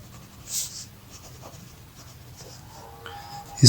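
Pen or marker writing on a board or paper during an algebra lesson: faint, scratchy strokes in short bursts, with a sharper, louder scrape right at the end.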